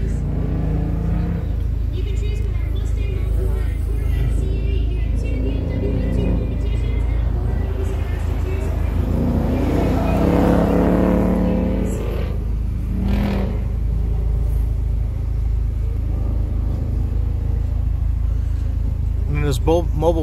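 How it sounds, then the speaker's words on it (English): A 2016 Ford Focus RS with minor air intake modifications rumbles steadily while being driven on a thrill ride at a driving festival, a loud continuous engine drone under people talking and whooping. "This is a 2016 Ford Focus RS."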